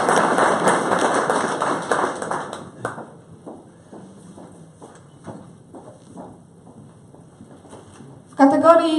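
Applause for Ms Jolanta, who has run a beauty services business since 1993, at a business gala in Kalety: a loud burst of clapping under a voice, thinning into scattered separate claps.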